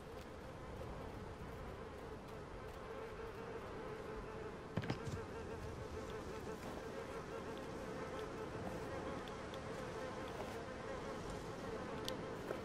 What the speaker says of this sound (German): Ich glaube, da muss ich irgendwie die Bienen reizen.